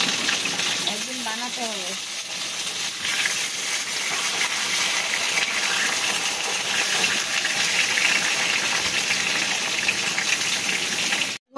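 Water gushes steadily into a pan of pointed gourd and potato curry, a constant hissing pour that runs loud throughout, with someone speaking briefly over the first two seconds.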